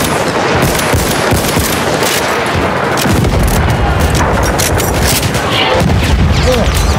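Enemy machine gun fire in the Battlefield video game: loud, dense bursts of automatic gunfire with booming blasts mixed in, roaring on without pause.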